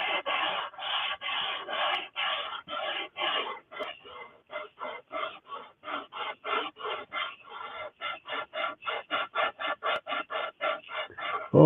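Walnut and maple wood being sanded gives a steady rasping scrape in rhythmic back-and-forth strokes, close and loud. The strokes grow shorter and quicker toward the end, with no talking.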